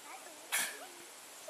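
A single sneeze from someone in a group at an outdoor primitive skills day camp, a short sharp burst standing out briefly over quiet background.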